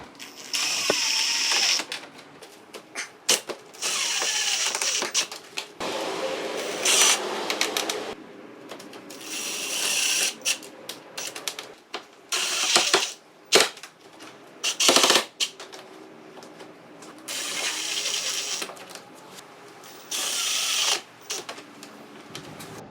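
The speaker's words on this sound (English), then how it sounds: "then I'm going to shoot the 2 screws closest to the middle" Screw gun driving screws into a carbon fiber front splitter on a Pontiac G8 GT, repeated loud bursts of whirring, ratcheting motor noise separated by short pauses, close to the microphone.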